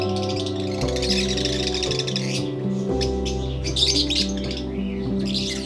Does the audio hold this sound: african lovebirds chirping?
yes